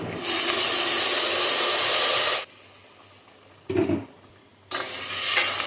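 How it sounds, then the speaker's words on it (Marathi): Hot water is poured into a pan of sizzling sandge curry, giving a loud, steady hiss and roar that cuts off abruptly, followed by a brief splash and then renewed sizzling. "त्याच्यामध्ये मी गरम पाणी करून ठेवलंय ते घालणार आहे."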